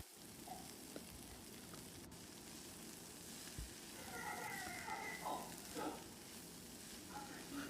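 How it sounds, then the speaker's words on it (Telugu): Cabbage frying in a pan gives off a faint, continuous sizzle with a few soft clinks and stirring scrapes in a home kitchen. "ఈ క్యాబేజీని మంచిగా ఫ్రై చేసుకుందాం"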